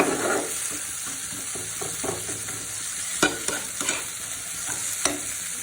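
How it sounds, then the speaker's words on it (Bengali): Garlic and tomato frying in a pan under steady stirring, a continuous sizzle with soft repeated scraping strokes of the spoon and a couple of sharper clinks near the end. "রসুনটাকে টমেটোর সাথে ভালো করে মিক্স করে নিচ্ছি।"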